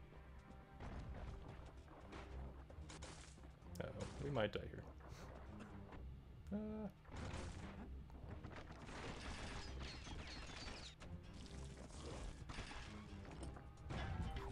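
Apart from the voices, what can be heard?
explosions in the video game Bastion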